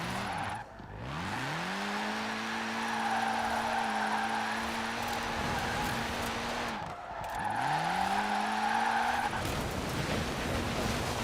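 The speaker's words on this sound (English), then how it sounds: "Drifting. Putting off the throttle." Forza Horizon 4 video game car drifting in snow, engine revving in a steady tone while the tires squeal through two long slides, the pitch dipping and recovering between them, loud and continuous.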